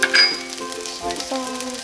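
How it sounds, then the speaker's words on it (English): Chicken fried rice is stir-fried in a hot pan, giving a close, steady sizzle with scraping and tossing sounds from stirring. "stir fry"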